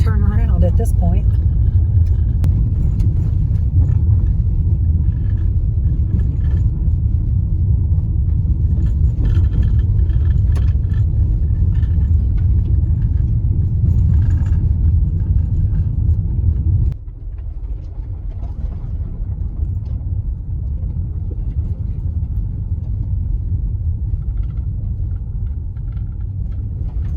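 A car drives along a rough, gullied dirt road on a US road trip, giving a loud, steady low rumble of engine and tires throughout that drops slightly partway, with voices speaking over it inside the car.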